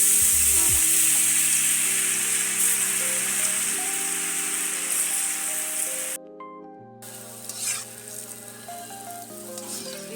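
Boondi batter drops frying in hot oil for homemade boondi laddoos, a loud, steady hiss and crackle that runs continuously, briefly cut off near the middle before resuming, with low tonal music beneath.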